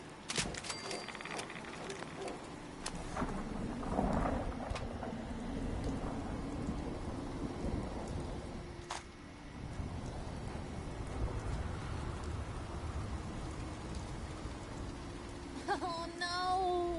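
Steady rain pours down with occasional low rumbles of thunder in the video game Fallout 4, a continuous wash of noise with a sharper crack midway.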